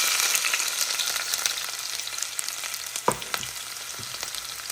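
Onion fries in hot oil, a continuous close sizzle with crackles and a few clinks and scrapes of stirring.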